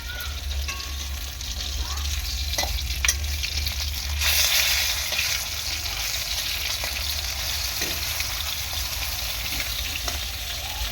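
Fish frying in oil in a pan for a curry with giant taro, making a steady loud crackle close up that swells briefly in the middle, with no speech.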